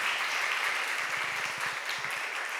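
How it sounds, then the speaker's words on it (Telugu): A church congregation claps together, a dense, even wash of applause from many hands lasting the whole moment, with no voice over it. "వాళ్ళు చప్పట్లు కొట్టండి ఒకసారి."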